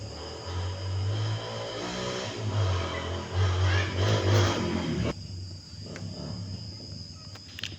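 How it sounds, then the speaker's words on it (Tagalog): A motorcycle engine revs for about five seconds, a rising and falling low drone with a buzzy edge, then cuts out abruptly, leaving quiet outdoor background with a faint insect chirp. "Bana kay motor."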